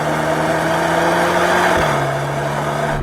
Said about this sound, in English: Even the engine sounds a bit fruity, like a 5-cylinder, even though it's a 4-cylinder.